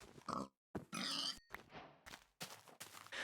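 Pigs in a Minecraft-style block game grunt and oink in a series of short, close bursts separated by brief gaps, with no talking.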